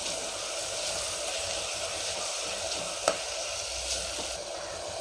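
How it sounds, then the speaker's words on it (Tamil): Chopped tomatoes frying in a pan for dry prawn biryani give a steady, even sizzle throughout, with one sharp utensil click partway through and a faint tap soon after. "இப்போ நம்ம கட் பண்ணி வச்ச தக்காளியை இதில் ஆட் பண்ணிடலாம்."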